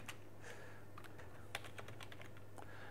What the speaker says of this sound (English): So I'm just typing away.